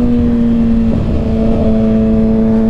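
A 2021 Kawasaki Ninja ZX6R KRT Edition motorcycle engine runs loud and close on a night ride, a steady high-pitched drone holding throughout with a slight surge in the middle.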